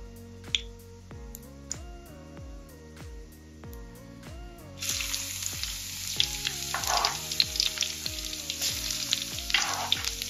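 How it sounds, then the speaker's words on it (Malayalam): Fenugreek seeds frying in hot oil, a loud sizzle that bursts in partway through and crackles on, layered over rhythmic plucked background music. "ഇനി ഉലുവ ചേർത്തതിന് ശേഷം നല്ല ബ്രൗൺ കളറാകുന്നതുവരെ നന്നായി ഫ്രൈ"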